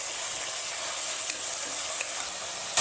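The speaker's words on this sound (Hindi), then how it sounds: "गोश्त को हम इसमें ऐड कर देंगे और अब प्याज के साथ हम इसको अच्छे से भून लेंगे।" Beef pieces frying with onions in a hot pan give a loud, steady sizzle and hiss close up, with a few faint stirring clinks.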